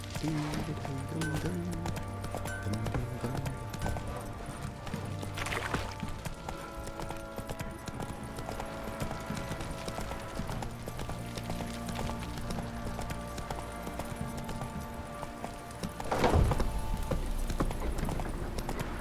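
Horse galloping in The Witcher 3, a steady clip-clop of hooves under a dense game soundscape with music and ambient layers, with a brief louder burst near the end.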